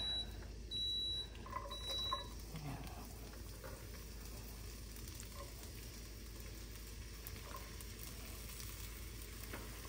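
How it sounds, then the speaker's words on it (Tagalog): Chopped ginger sizzles steadily in hot canola oil in a pan, a continuous close frying hiss, with a rice cooker beeping a few times early on. "lagay na natin itong chop na ginger"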